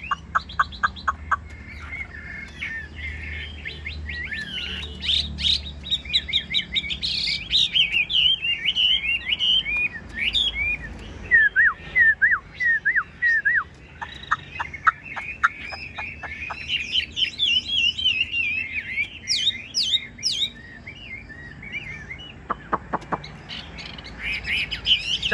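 A caged hwamei, or Chinese melodious laughingthrush, sings loud and close for a long stretch, pouring out varied whistles, rapid trills and sharp chirps in irregular phrases with brief pauses between them.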